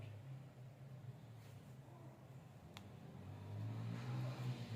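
A sewing machine motor whirs steadily while stitching ball gown fabric for a child's princess party frock, a low continuous hum that swells louder near the end, with no talking.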